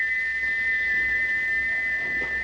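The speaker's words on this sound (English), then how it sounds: "he wouldn't stop whistling until two fitters climbed up and knocked his whistle valve in place" A steam locomotive whistle blows in one long, steady, unbroken tone, loud and close, with no talk over it.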